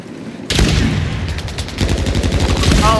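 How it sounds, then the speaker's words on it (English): Rapid bursts of automatic gunfire in the Call of Duty Warzone video game, a loud dense volley starting abruptly after a quiet moment and continuing almost unbroken to the end. "They're shooting at you."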